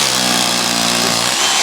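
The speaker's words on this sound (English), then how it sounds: "you're going to use the masonry bit on the hammer drill" A hammer drill with a masonry bit bores a hole for a fence post, giving a loud, steady buzzing motor drone with a harsh grinding edge that continues throughout.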